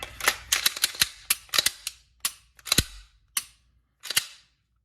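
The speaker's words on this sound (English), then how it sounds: "So all there's left to do is to reassemble the pistol." A Glock 19 pistol being reassembled, a quick series of sharp metallic clicks and snaps, close and crisp, in an irregular rhythm with short pauses and a last click after a gap.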